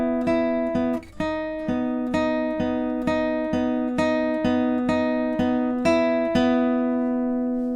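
An electric guitar plays a repeating picked pattern from a song, with steady, evenly spaced plucked notes ringing over sustained tones, alone and close.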